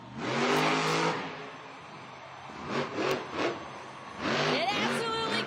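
Engine of a monster truck built as a bus roars and revs loudly during a backflip, with surging bursts, a dip in the middle, then a strong rev again.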